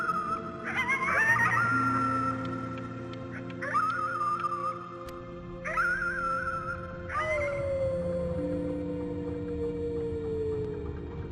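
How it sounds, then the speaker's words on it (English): In the game Before Your Eyes, a child howls at the moon, a series of long rising and falling wolf-like cries repeated several times over a sustained musical drone. "You howled at the moon, at the top of your lungs."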